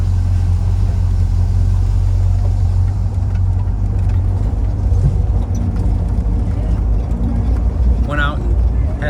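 A 1957 Chevrolet Bel Air convertible shifted into drive, its engine a loud, steady low rumble close by, with a person talking over it.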